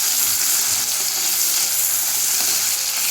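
Two medium-sized chopped onions frying in oil, a loud, dense sizzle with constant hiss and crackle and a few stirring scrapes, close up and continuous throughout.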